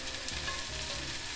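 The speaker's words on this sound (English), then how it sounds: "You hear that sizzling sound?" Loud, continuous sizzling of marinated beef bulgogi frying in a hot pan, a steady crackling hiss with no voices.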